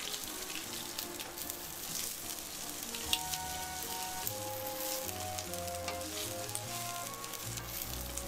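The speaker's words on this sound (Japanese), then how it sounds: "玉ねぎを炒めます。" Sliced onions frying in a pan while a Japanese home cabbage curry and pork-and-potato dish is cooked, with a steady close sizzle and occasional soft stirring scrapes and clinks.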